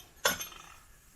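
A single sharp metal clink as the plate comes off an Instant Pot Duo Gourmet during disassembly, a close, bright hit that rings briefly and fades, with no voices.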